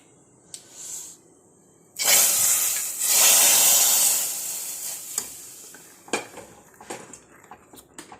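Mustard seeds dropped into hot oil in a pan on a home kitchen stove burst into a loud, sustained sizzle and crackle, fading over several seconds, with utensil clinks and scattered pops afterward.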